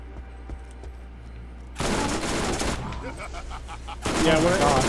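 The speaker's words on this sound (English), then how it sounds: "It's my shotgun." Shotgun blasts in the Borderlands game, with a sudden loud burst at about two seconds and another at four, each leaving sustained gunfire noise that stays fairly dense rather than clean separate shots.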